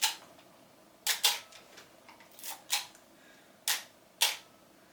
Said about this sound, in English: You listen to that shutter.